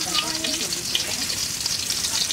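Perch-like freshwater fish frying in hot oil, a dense continuous crackling sizzle close up with bubbling spatter throughout.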